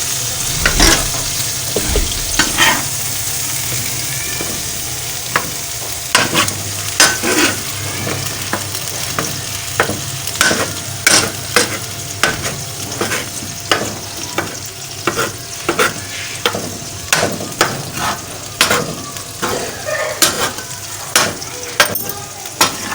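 Chicken liver fries in oil on a tawa with a steady sizzle, while a spoon stirs and scrapes in frequent clattering strokes and oil spits in sharp crackles. Close and fairly loud throughout, with no talk.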